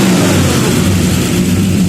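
A 400 small-block Chevy V8, swapped in for a 454 big-block, runs loud and close at a steady high rev, a dense throaty roar with a heavy low rumble throughout.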